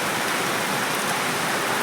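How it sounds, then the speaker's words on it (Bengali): Steady, dense rain falling continuously, an even hiss of drops with no pauses, heard from a rooftop. "সকাল থেকে বৃষ্টি হচ্ছে একভাবে একভাবে"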